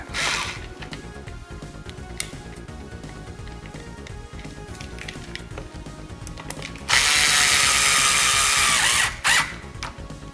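Power screwdriver driving screws into the plastic casing of a Ctek MXS 5.0 battery charger, a steady whirring with ratcheting clicks, then a louder, brighter burst of driving near the end.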